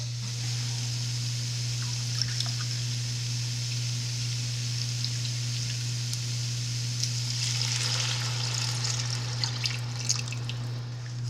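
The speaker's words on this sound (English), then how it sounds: "I'm gonna let this cook until the wine is at least halfway reduced." Red wine simmers and reduces in a pan for braised chuck roast, giving a steady soft sizzle and bubbling with a low constant hum beneath and a few faint clinks.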